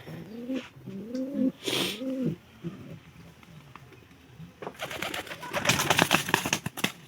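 A pigeon coos several times in soft, low, wavering calls, followed by a burst of rustling and fluttering noise.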